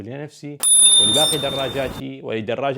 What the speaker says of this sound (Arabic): بإمكانك ضغط الجرس والإمساك بالفرامل في ذات الوقت